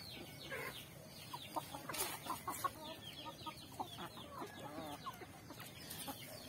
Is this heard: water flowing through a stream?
no